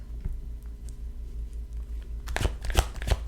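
Tarot cards are shuffled and pulled close to the listener: a soft, quiet rustle at first, then louder snapping riffles and slaps of cards. No one speaks.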